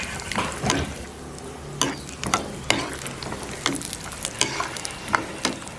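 Cashew nuts fry in a pan for semolina kesari, a soft continuous sizzle broken by repeated scraping stirs and light clinks every second or so, heard close up.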